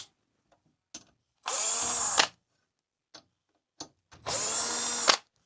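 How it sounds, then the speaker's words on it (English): Power drill backing out bolts from a 52-inch black smart ceiling fan, two bursts of steady close whirring about a second long each, separated by quiet gaps with small clicks and handling knocks. "Next step, we're going to remove the 3 bolts."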